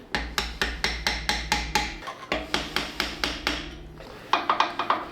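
A hammer taps an axle part into place on a small Amigo fitted with full-size axles, delivering a quick regular series of metallic blows, pausing briefly and then resuming with a final flurry of lighter, ringing taps.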